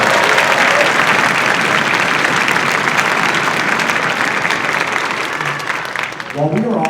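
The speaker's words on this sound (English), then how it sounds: "How about another round of applause?" Loud, dense audience applause from a packed house at an upper elementary school orchestra winter concert, steady and sustained before tapering, with a voice beginning to speak over it at the end.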